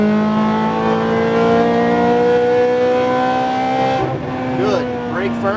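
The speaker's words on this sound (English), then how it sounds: "Now accelerate out of the corner to the right." A Ferrari F430 accelerates out of a corner on the Speed Vegas track, its engine a loud, steady, rising drone that runs throughout, with a voice speaking over it near the end.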